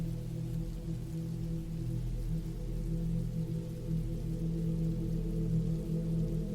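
Steady rain falling on a surface, continuous and even with a low rumbling body, no voices, a constant wash throughout.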